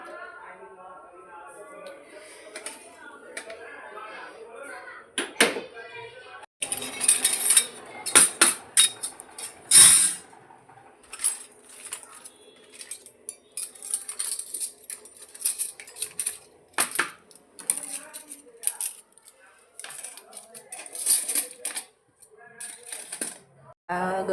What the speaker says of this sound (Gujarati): વાસણ પડ્યા છે, દેખો વાસણ પડ્યા છે થોડા, હમણાં ઘસું છું.